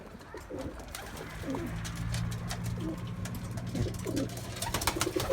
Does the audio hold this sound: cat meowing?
no